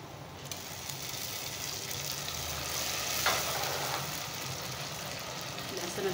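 Tomatoes go into a pan of frying onions for a handi kabab gravy, giving a steady, close sizzle with faint stirring scrapes that swell slightly near the middle.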